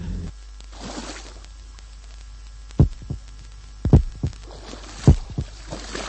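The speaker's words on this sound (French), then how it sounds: "Il y a ces lourds battements de cœur." Heavy, deep heartbeats thud in pairs over a low constant hum, with quieter muffled sloshing between beats.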